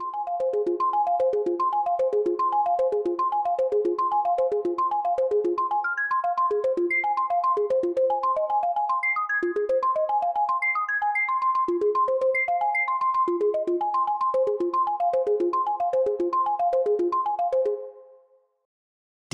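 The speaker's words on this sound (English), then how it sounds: "you can use the Mutate dial to add random notes into your arpeggio" A Novation Launchkey MK3 arpeggiator plays a fast, steady stream of bright synth notes in a repeating pattern, with random extra notes from the Mutate control adding higher pitches in the middle. The pattern runs alone and stops abruptly near the end.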